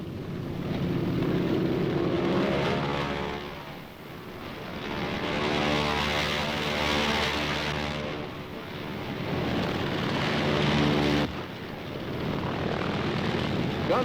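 Navy carrier planes flying over Korea give a loud, sustained propeller-engine roar that swells and ebbs in passes, with brief dips between them.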